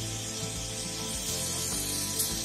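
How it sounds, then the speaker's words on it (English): Disinfectant spray hisses steadily over incoming vehicles at a state-border checkpoint, a continuous broadband rush with a low engine hum underneath and no talk. "This spray is being used to sanitize all incoming vehicles into the state."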